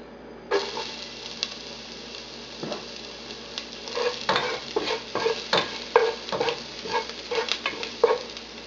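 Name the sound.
sautéing garlic in butter in cooking pot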